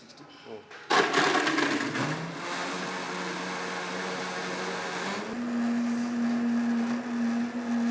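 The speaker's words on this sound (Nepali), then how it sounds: "यसलाई पनि 1 मिनटसम्म राम्ररी ब्लेन्ड गर्नुपर्ने हुन्छ।" A blender whirs loudly and steadily through a caramel frappe in a capped jar during a barista coffee class, starting abruptly about a second in, its motor pitch climbing partway through.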